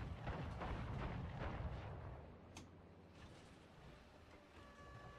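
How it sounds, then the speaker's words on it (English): Rumbling gunfire and explosions across a city in War Thunder tank combat, a burst of booming blasts that fades into a quieter distant rumble, with a sharp crack midway and no voices. "we got some more firing in the city"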